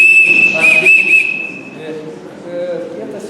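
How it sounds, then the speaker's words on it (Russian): A traditional Russian folk clay toy whistle, a svistulka, gives one loud, steady, shrill tone for about a second and a half with a slight warble, followed by softer talk. "Вот такие свистульки."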